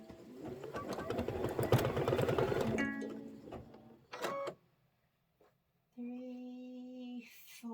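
An embroidery machine stitches an applique placement line with a quick, rapid mechanical rattle for a few seconds, then stops, followed by separate short beeping tones and quiet gaps.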